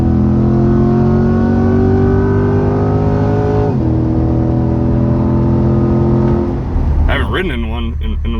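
A 2020 C8 Corvette convertible pulls hard, its mid-engine note climbing steadily in pitch before a quick upshift drops the revs and the climb resumes, loud and close from inside the car, with people talking over it.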